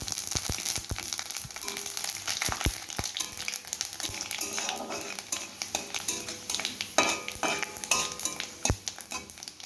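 Bay leaf, dried red chillies and panch phoron five-spice sizzle in hot oil for a vegetarian taro-leaf dish, a steady crackle broken by sharp clicks of a utensil stirring against the pan.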